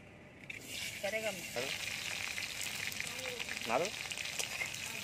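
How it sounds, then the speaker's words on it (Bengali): Oil sizzles steadily and fairly quietly as potatoes fry, with a few brief voice-like snippets rising over the frying. "এবার আলু ভেজে নেব।"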